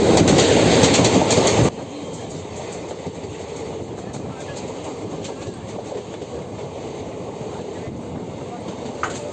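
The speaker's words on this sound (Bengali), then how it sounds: "এখানে একটা এক্সপ্রেস ট্রেন যাচ্ছে আমাদের একদম লাইনের প্যারালালি" An express train passes on the parallel track beside a moving Sealdah–Naihati MEMU local, a loud rush that cuts off abruptly into steady rolling rail rumble and wheel clatter heard from inside the carriage.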